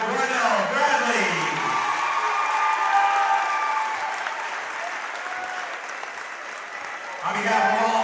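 Applause and cheering from a high school basketball crowd at a Drury versus Hoosac Valley senior celebration fills the gym loudly and continuously, easing slightly before swelling again at the end.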